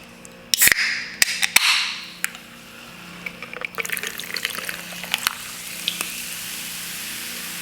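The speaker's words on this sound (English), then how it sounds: "So I'm gonna have some of this Waterloo peach flavored sparkling water" Waterloo peach flavored sparkling water being poured: a few sharp clinks and a splashing pour at the start, then fizzing, crackling carbonation bubbles that continue steadily.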